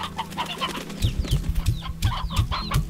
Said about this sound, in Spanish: A la granja, los pollitos.